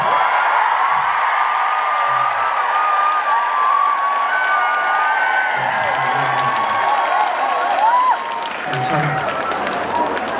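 A crowd at an outdoor temple-grounds music concert keeps up dense applause with shrill cheers and whoops. It is loud and continuous, and a few voices call out over the clapping.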